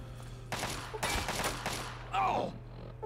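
Enemy gunfire breaks out in Fallout 3 against Talon mercenaries: bursts of rapid shots over a steady low game hum, then a brief high whining sound near the end.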